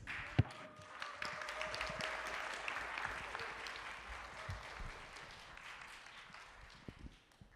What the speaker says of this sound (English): Please give them warm applause.